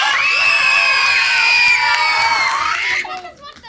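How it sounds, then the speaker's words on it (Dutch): A crowd roars with screaming, whooping and cheering, many high young voices among it, loud and sustained for about three seconds before fading quickly. "Helemaal klappen, gillen, juichen, stampen."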